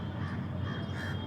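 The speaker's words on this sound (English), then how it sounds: "Oh, these birds are really beautiful." Crows cawing outdoors, a steady, moderately loud run of harsh calls over constant background noise for about a second.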